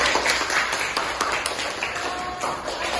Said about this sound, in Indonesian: Kasih tepuk tangan buat Jara.